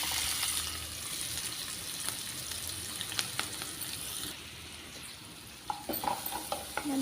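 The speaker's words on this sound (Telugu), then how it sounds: "మంచిగా అంతా కలిసేలా వేయించుకోవాలంటే బాగా వేగే వరకుని." Chopped onions and green chillies fry in oil for a Telugu chamagadda (taro root) curry, with a steady broadband sizzle and scattered clicks of stirring. The sizzle eases slightly partway through, with no voices.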